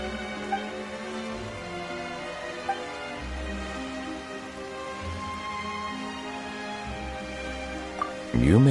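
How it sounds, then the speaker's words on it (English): Sudden rain sets in within the video game Genshin Impact, a steady broadband hiss of falling drops mixed under sustained game music, with a brief louder swell at the very end. "Why is it raining all of a sudden?"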